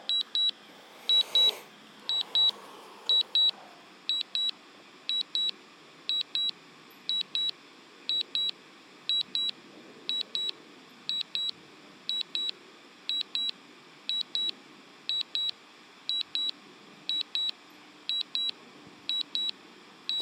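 Rapid high-pitched electronic beeps from a DJI Mavic Pro drone controller repeat in pairs at a steady rhythm throughout, over a faint background hum and a brief rustle near the start.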